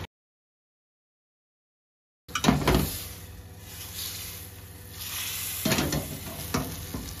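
Butter sizzling and frying in a hot pan for a roux with mushrooms, starting abruptly after a silent gap, then a steady close crackle with a few stirring scrapes and swells.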